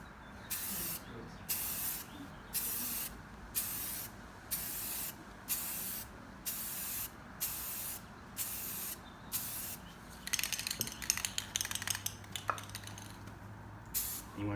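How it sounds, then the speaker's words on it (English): Spray paint from a can misted onto car wheel rims in regular bursts, each a bright steady hiss lasting about half a second, repeating rhythmically with brief pauses, followed by clattering handling noise. "you always want to start on the outside and end on the outside for your spray pattern"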